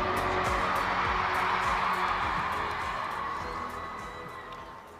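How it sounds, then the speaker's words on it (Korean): Large crowd applauding and cheering at the Seoul Music Awards 2018 ceremony as award presenters are welcomed, a dense continuous roar of clapping and shouts that gradually fades over several seconds. "여러분 큰 박수로 환영해 주시기 바랍니다."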